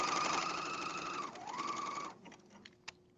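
A sewing machine runs steadily while stitching pajama pant seams, its whirring motor pitch dipping briefly mid-run before stopping, then a few soft handling clicks follow.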